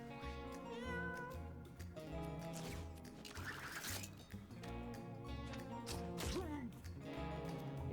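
Cartoonish cat meows from the video game Mewgenics, set over steady game music, with a clear mewling cry near the middle and another near the end.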